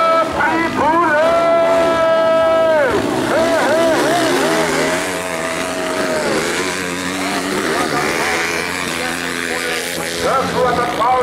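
A motocross bike engine revs hard on a dirt race track at a regional championship, its whining pitch climbing and dropping through gear changes, loud and close under an excited commentator's voice.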